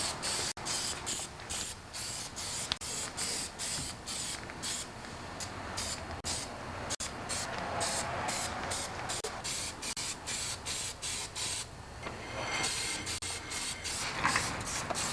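Aerosol spray can hissing in repeated short bursts, close and steady, as black paint is applied to John Deere 316 garden tractor parts with the wheel removed; no talking.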